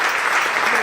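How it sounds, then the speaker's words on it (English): Audience applause following a choir performance at a school fall jazz concert, a brief dense wash of clapping from a large nearby crowd. "another round of applause for the Red Street Singers"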